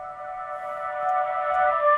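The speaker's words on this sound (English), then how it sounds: "the first thing I pulled in was this little flute phrase from Splice." A reversed flute phrase sample from Splice, used as a melody element, swells steadily from soft to loud with sustained tonal lines and ends on a sudden cutoff, with no voices.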